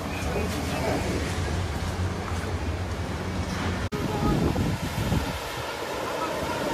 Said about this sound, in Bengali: এই হচ্ছে সমুদ্র